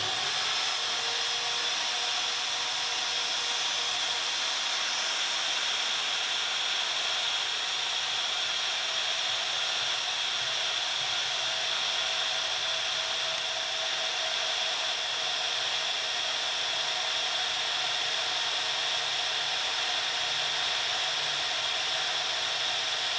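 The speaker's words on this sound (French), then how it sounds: "Vous remarquez que le perçage du PMMA est bien plus long que celui du polycarbonate." Drill boring through PMMA and polycarbonate plastic, a steady high whining hum that holds continuously at close range, with no talking.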